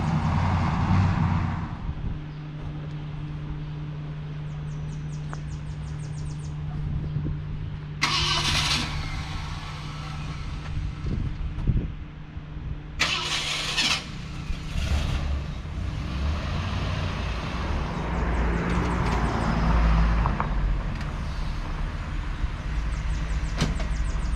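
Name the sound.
1966 Ford Galaxie 500 convertible engine starting and driving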